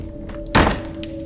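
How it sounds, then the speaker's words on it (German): A single loud thunk from behind a closed door, one sharp heavy impact that rises out of a steady low background hum and fades within a fraction of a second. "Ein lauter Knall von der anderen Seite der Tür."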